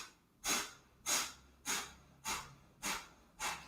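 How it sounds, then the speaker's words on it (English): Kapalabhati yoga breathing: six sharp, forceful nasal exhales at a steady rhythm about every half second, close and loud, with quiet passive inhales between. "Kapalabhati is a longer exhale and a passive inhale."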